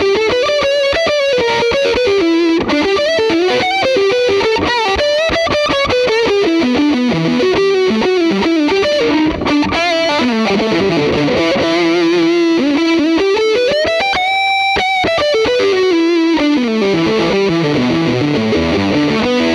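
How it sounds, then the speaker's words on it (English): A vintage-style fuzz lead guitar tone from a Line 6 POD HD300 plays a loud, continuous distorted melodic line with bends and sustained notes, with no talking. "It's like a vintage lead sound with a little bit of fuzz."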